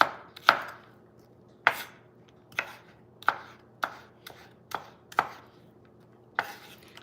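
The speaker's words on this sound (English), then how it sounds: "So I'd say cube them up. That's what I call this, cubing the onions." A knife cubes onions on a cutting board while making tuna salad: about eight sharp, close chops land at an uneven pace, with quiet gaps between them.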